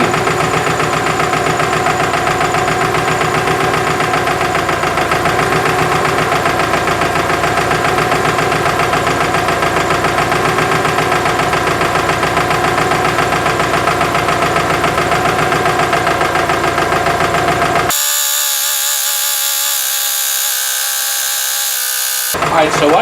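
A close, steady Subaru engine idle with a fast, even metallic ticking layered over the drone, heard through a mechanic's stethoscope while diagnosing engine knock, ending in a brief burst of harsh hiss.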